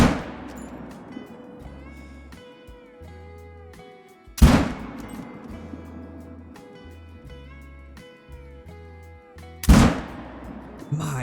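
A 6.5 rifle fires in theHunter: Call of the Wild: two loud, sharp cracks several seconds apart, each trailing off into a long rolling echo over soft background music.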